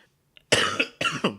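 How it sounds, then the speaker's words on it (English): Two sharp, close coughs into a microphone in quick succession, loud and harsh, with near silence before them. "And I apologize for coughing all in this mic"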